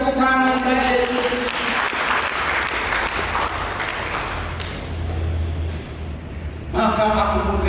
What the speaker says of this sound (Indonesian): Mari kita berikan tepuk tangan bagi Yesus.